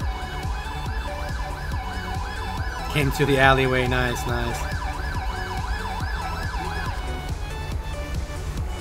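An ambulance siren in the video game GTA V wails steadily in quick rising and falling cycles at moderate volume, while someone speaks briefly over it.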